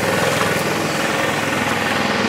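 Steady drone of a V-Ride standard ride-on lawn mower engine running close by, loud and continuous with an even low rumble throughout.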